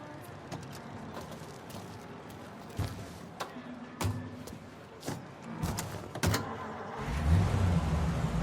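Period car driving in Mafia Definitive Edition, a steady engine hum with occasional thumps and revving, the motor swelling louder near the end.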